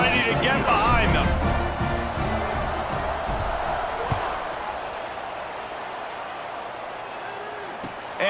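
A stadium crowd roars at kickoff in a college football video game, Baylor versus UAB, a steady broad wash of cheering that starts loud and slowly fades, with a few thumps and a commentator talking over it.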